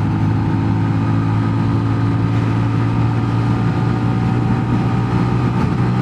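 A 2022 Sinnis GPX 125 motorcycle engine drones steadily at speed in sixth gear, a constant loud buzzing hum mixed with rushing wind noise.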